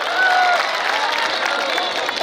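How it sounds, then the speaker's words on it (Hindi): Audience applause at a Kul Hind mushaira, an Urdu poetry recital, held on 31 December 2023: a dense, steady wash of clapping from a large crowd that holds at full strength throughout, with no talk over it. "कमर साहब ने इतनी ताली बजवा दी"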